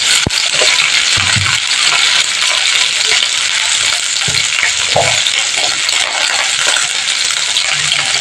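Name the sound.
cauliflower frying in oil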